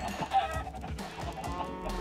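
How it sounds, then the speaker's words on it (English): Chickens cluck in the video game Minecraft, a few short bursts of clucking over a muffled, busy game background at moderate volume. "Chickens are so small."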